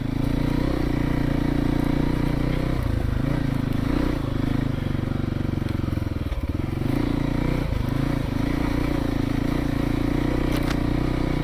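Kawasaki KLX300 dirt bike ridden on a frozen, log-strewn trail, its engine droning loud and steady close by, with brief dips in revs and light clatter.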